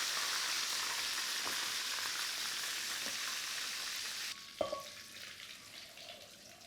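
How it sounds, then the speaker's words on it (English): Lobster pieces sear in a hot wok with a steady, bright sizzle, close and even, which suddenly drops in level partway through, followed by a sharp metallic knock and a quieter continuing fry. "Now the lobster's had its initial sear"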